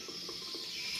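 Tap water runs steadily over a pressure cooker sitting in a kitchen sink, a continuous close splashing hiss with no voices.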